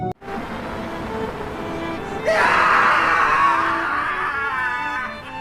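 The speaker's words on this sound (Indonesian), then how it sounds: "sang ayah berteriak merasa kehilangan istri tercintanya" A man in a film scene screams in grief after losing his wife, a long anguished cry that rises sharply partway through and holds loud before tapering, set over a low background murmur.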